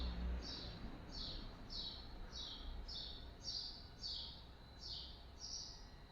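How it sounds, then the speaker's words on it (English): Faint, high bird chirps repeat at a steady pace, about one every half second, over a soft background hiss. "You hear the birds chirping here."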